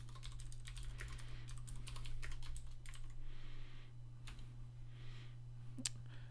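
Fast, uneven clicking of a computer keyboard being typed on, close and fairly quiet over a steady low electrical hum, with short pauses between bursts and no talking.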